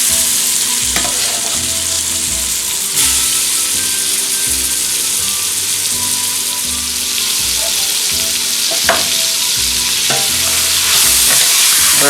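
Onions browning in a pan alongside seared venison for goulash crackle with a steady loud sizzle, while a utensil scrapes and stirs in irregular bursts throughout.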